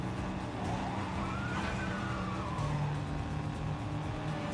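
Car engine and tire skids from the video game 007 First Light, a steady driving roar with a rising squeal sweeping through the middle, loud and continuous without talk.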